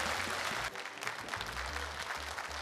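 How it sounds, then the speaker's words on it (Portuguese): An audience at a sertanejo music show applauds steadily, with dense, continuous clapping filling the space from start to finish. "Vamos aplaudir."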